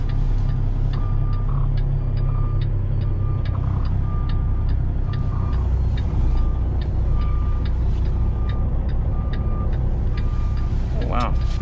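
Car traffic rumbles steadily nearby with engine drone, repeated beeping tones and a brief hiss near the end, under a constant low roar.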